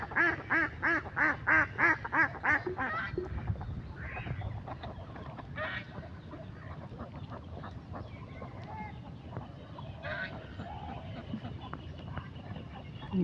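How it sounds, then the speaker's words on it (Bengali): A small flock of village ducks quacks in a quick run of loud, close calls as they head into a river, then the calls fade into a softer outdoor murmur. "হাঁসগুলো পানিতে নেমে গেছে"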